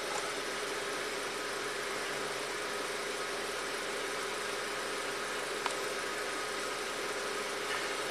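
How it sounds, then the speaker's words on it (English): A Volkswagen Passat engine idles roughly with its camshaft position sensor unplugged, giving a steady, moderately loud hum with no talking over it. "It's running rough. Yeah, it's not happy without that cam sensor."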